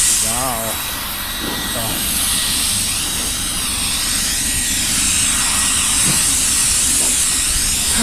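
A mini snow blower runs with a loud, continuous whooshing roar and hiss, holding steady throughout without pause.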